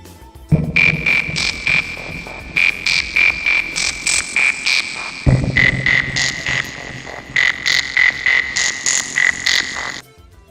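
A frog-croaking song plays on a stream: bright, rhythmic croak-like pulses repeat in regular bursts over a musical backing, with one brief pause midway before the pattern resumes.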